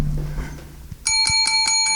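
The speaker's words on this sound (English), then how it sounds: "That's the dinner bell ringing for you." A quiz show bell effect, a bright ringing bell that sounds suddenly and repeats in rapid pulses, loud and clear, after a moment of quiet room noise.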